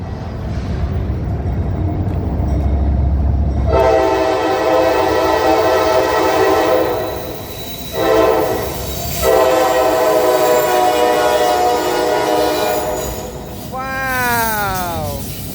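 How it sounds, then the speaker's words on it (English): A freight train rolls past near Queens Gate Yard in Cincinnati, Ohio, its steady rumble and wheel noise loud and close, with a multi-tone horn sounding in long blasts and a falling whine near the end. "Got another train coming."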